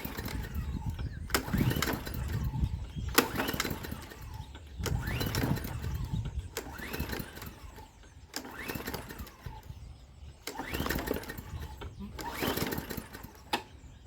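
Hyper Tough 20-inch push mower engine cranked over and over on the pull cord, about six rhythmic bursts of sputtering engine noise that never catch, each ending abruptly, close and fairly loud.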